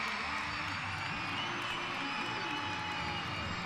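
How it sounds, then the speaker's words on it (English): Basketball crowd standing and cheering at Millett Hall after a women's college game ends, a dense, steady roar of voices and applause filling the arena throughout. "Millett Hall crowd on their feet."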